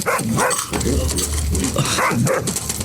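Dogs bark loudly and close by in quick, overlapping bursts, with some yipping mixed in.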